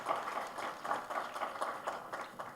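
An audience at a memorial lecture gives a round of applause, soft and fairly distant, with scattered clapping that swells in loose pulses throughout.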